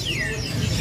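A tame, large songbird of a rare kind gives a brief chirp, with a clear descending whistled note heard close over low background noise.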